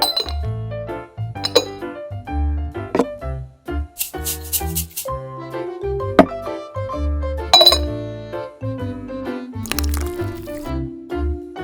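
Clinking and scraping of a utensil against a glass bowl while seasoned calamari stuffing with cheese, salt, pepper and olive oil is mixed, a steady run of bright close-up taps and knocks with no talk.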